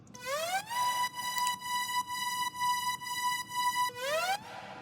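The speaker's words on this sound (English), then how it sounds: "I also added a hoover here." Hoover synth layer in a progressive house track, a bright buzzy chord with swooping rising pitch glides at the start and end, sustained and pulsing rhythmically with sidechain dips, moderately quiet and alone.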